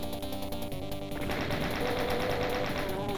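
Chaingunner enemies firing chain guns in Doom, a dense, loud stream of rapid automatic gunfire bursts that runs continuously for a few seconds, with the rhythm shifting partway through.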